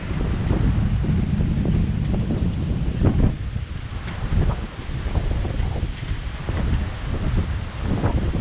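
Gusty wind at a marina roars against the microphone, heavy low rumbles surging and easing in waves, with nothing else clearly heard.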